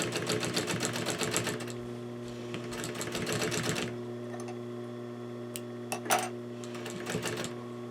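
A sewing machine stitches fabric for a parson's chair slipcover, its needle hammering in fast, even bursts that stop and restart, with a steady motor hum and a few sharp clicks near the end.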